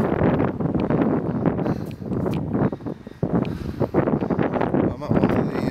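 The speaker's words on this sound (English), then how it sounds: "A bit windy." Gusty wind buffets the microphone outdoors in a town street in Rotherham, a constant rumbling roar with stronger surges, while someone talks over it.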